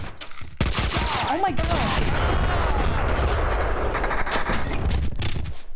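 Shotgun gunfire fills a chaotic firefight in Max Payne 2, heavy booming blasts and dense shooting that go on for several seconds, while a player briefly shouts in surprise.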